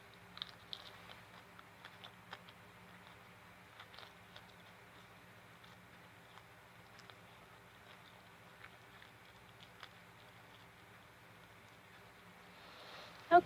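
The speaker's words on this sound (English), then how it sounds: "So I'm going to chew up a few leaves." Faint wet chewing of broad leaf plantain leaves being mashed in the mouth, soft irregular crunches and clicks spread over a quiet background with a low steady hum, no talking.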